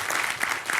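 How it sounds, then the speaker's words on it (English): A brief burst of audience clapping after a mock court argument, a close mass of hands at moderate volume lasting under a second. "Please give a hearty round of applause"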